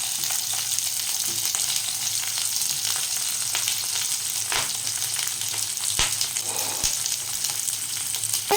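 Moong dal dry-roasting in a pan for a moong posto dish gives a steady, close hiss of frying, with a few soft scrapes and taps of stirring and no talk.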